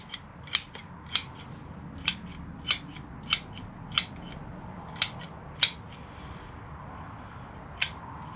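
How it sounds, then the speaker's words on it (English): Scissors snip at privet bonsai roots during repotting, giving a dozen or so crisp, close clicks spaced irregularly about half a second apart, with no talking. "Just trim the longer roots for that first profile pruning."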